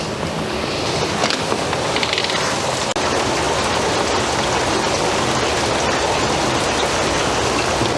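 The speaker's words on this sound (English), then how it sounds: "it's dumping rain." Heavy rain pours down steadily, a loud, dense hiss of drops drumming on surfaces nearby without a break.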